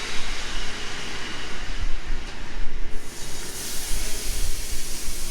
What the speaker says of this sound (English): Perfect sizzle sound.